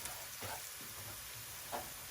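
Onion frying in a pan during home iftar cooking, a soft, steady sizzling hiss heard faintly and continuously with no talk.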